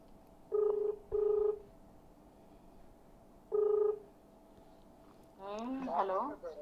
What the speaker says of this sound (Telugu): మేడం గారికి రింగ్ చేస్తున్నాం